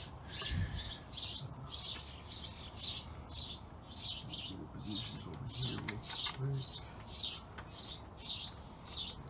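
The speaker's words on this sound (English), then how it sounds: "There goes the birds again." Small birds chirp repeatedly in a steady, rhythmic series of bright tweets, moderately distant, heard outdoors while a Chevy Cruze valve cover is replaced, with faint low background noise and brief murmuring voices underneath.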